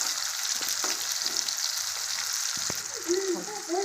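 Onion fries in hot oil for a spicy sprouted moth bean curry, with a constant bright sizzle close by and a couple of faint taps from a utensil.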